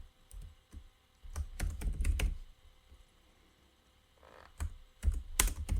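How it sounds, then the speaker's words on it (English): A computer keyboard is typed on in bursts while coding, with clusters of sharp close key clicks, repeated tab presses, and brief quiet pauses between the runs of keystrokes. "I'm pressing tab many times."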